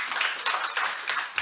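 A convention audience claps in a quick rhythmic pattern, several regular bursts of hand claps in close succession, fairly near and moderately loud.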